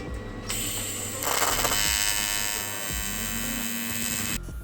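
A TIG welder tacks an aluminium seat base to a sheet, producing a steady close electrical buzz and hum that swells slightly midway and cuts off near the end.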